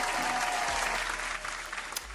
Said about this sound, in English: So I really just need a round of applause.